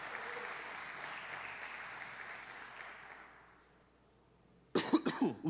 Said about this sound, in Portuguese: Você pode aplaudir ele, se você estiver aprendendo até aqui.